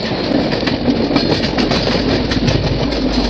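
An express train runs through on a loop line, a close, steady roar of carriages with repeating clickety-clack from the wheels, loud and even throughout, no talking.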